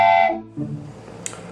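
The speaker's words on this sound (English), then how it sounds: "Driver, blow the whistle!" A train whistle sounds one loud, sustained blast, then falls away to lower fading tones and background hiss, with a brief sharp click near the end.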